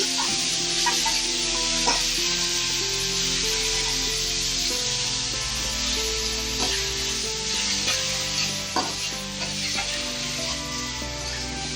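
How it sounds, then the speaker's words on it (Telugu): Grated raw mango sizzles steadily in a hot pan while being stirred and mixed for mango rice, a continuous close frying hiss broken by repeated light scraping strokes, with no talking. "ఇప్పుడు ఇందులోకి ఇది మామిడికాయ తురుము వేసుకుంటున్నా అట్లా వేసుకొని బాగా మిక్స్ చేసుకొని"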